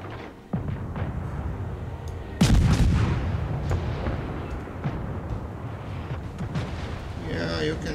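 Gunfire in World of Warships: a broadside from a Wickes destroyer booms in sudden heavy blasts, one at half a second and a bigger one near two and a half, over a steady rumble of battle.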